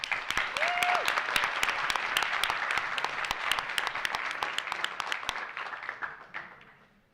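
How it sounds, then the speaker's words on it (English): Audience applause at a high school innovation pitch competition, a dense burst of clapping that holds steady for several seconds and then fades out, with a brief voice near the start. "give them a big round of applause"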